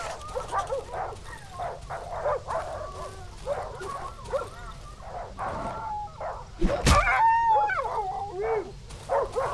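A dog in the horror video game Darkwood whimpers, yips and howls in a steady run of short cries, then gives a sharp loud bark followed by a long, drawn-out whine and more whimpers, with an eerie ambient drone underneath.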